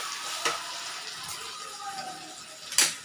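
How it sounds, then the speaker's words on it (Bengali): Hot water goes into a pan of fried, oil-releasing meat, producing a soft steady sizzle with a couple of sharp stirring clinks, close and fairly quiet, with no talk. "এখন জল ঢেলে দেবো,"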